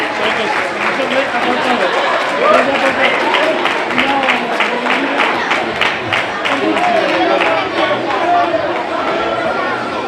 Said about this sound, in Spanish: ese aplauso muy fuerte para el disfraz de ganador de la categoría individual